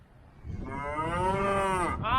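A cow on a ranch gives one long, loud, close moo that swells and holds, followed by the start of another.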